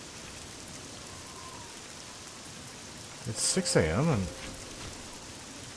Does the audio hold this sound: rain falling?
yes